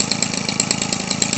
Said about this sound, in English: the Weed Eater Featherlight 25 for you. Thing will, idle like this forever.